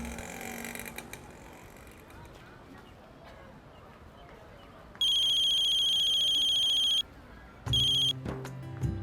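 A telephone rings in a sustained electronic tone, stops, then rings again briefly, with faint background noise before it.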